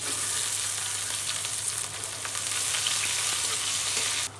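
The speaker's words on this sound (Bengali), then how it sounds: "পেঁয়াজ মরিচ ভাজা হয়ে গেছে" Onion and garlic fry in hot oil in a wok with bay leaf and panch phoron, giving a loud, steady, close-up sizzle that runs without a break and drops away abruptly just before the end, with no speech.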